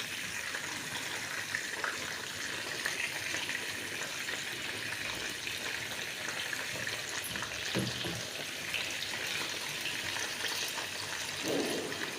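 Steady crackling sizzle of chicken pieces frying in hot oil, continuous and close, with occasional louder pops and spatters.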